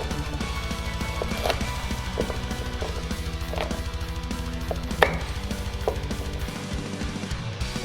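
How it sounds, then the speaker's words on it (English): A knife chopping celery and carrots on a board for pumpkin risotto: rapid, even, close strokes in a continuous run, with a few sharper knocks. "So we had to cut the celery roughly. Okay, also we need to do the carrots."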